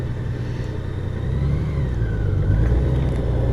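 A Honda Goldwing motorcycle engine idles before a ride in Tampa, Florida, with a steady, low, close rumble that rises slightly partway through and holds without a break.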